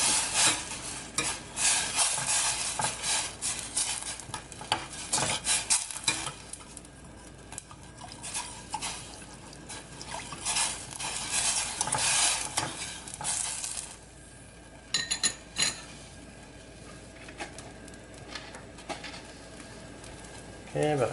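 Thai chili paste sizzles in a pot for tom yum goong while it is stirred, a busy crackling fry with scraping utensil strokes against the pot, fairly close, with bird calls faint in the background.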